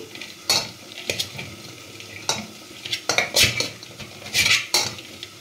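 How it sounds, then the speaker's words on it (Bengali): Boiled chickpeas being mashed in a pan for Punjabi chole masala: irregular metal-on-pan scrapes and clinks, a few sharper knocks, near and moderately loud, with no talking. "রেস্ট ছোলাটা এটা ম্যাশ করে দিচ্ছি"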